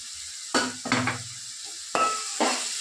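Ingredients for a special fish curry frying in a pan, with a few distinct spatula scrapes and clatters against the metal over a soft, steady sizzle.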